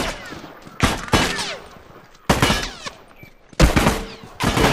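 Loud bursts of burst-rifle gunfire in the video game The Last of Us, several sharp three-round volleys spaced a second or so apart, close and punchy with ringing tails.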